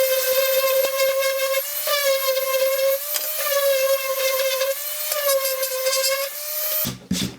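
A wooden push stick is sanded smooth with 80 grit sandpaper under a steady, loud, tonal power-tool whine that dips and rises slightly as pressure changes, then cuts off abruptly near the end.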